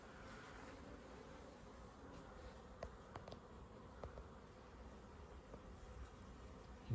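Bees humming around a hive in an old stone wall at an ancient church, a steady faint low buzz with a few passing insects droning nearer over soft outdoor noise.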